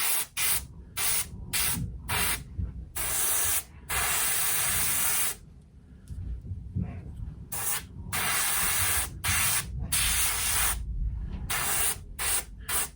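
Airbrush hissing as it sprays paint base coats onto a figure, in steady bursts of a second or two broken by brief gaps, close and fairly quiet with a soft background hum.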